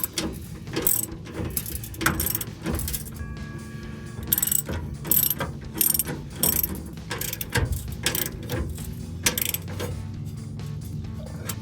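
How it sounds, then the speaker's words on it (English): A hand ratchet tightens bolts on a steel rear bumper of a RAM 1500 truck, with repeated bursts of fast clicking pawl strokes separated by brief pauses, close and loud. "We'll go ahead and look and tighten these ones down."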